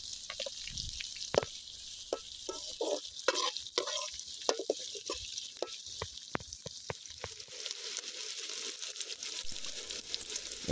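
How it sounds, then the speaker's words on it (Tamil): Sliced large onions fry in a pan for a spicy Chettinad chicken gravy, a spoon scraping and stirring in quick irregular strokes over a continuous hissing sizzle, close and fairly quiet. "பெரிய வெங்காயத்தை ஆட் பண்ணி நல்லா ஃப்ரை பண்ணிக்கோங்க."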